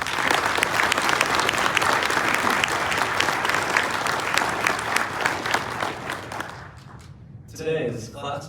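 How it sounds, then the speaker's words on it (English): A crowd at a fall recruit academy graduation gives a long round of dense, loud applause that holds steady, then thins and fades near the end as a voice begins to speak. "let's give a round of applause to everybody that's made this academy possible"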